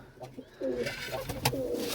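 Soft, low pigeon coos repeat through the clip, near and fairly clear, with some brief rustling and faint background noise.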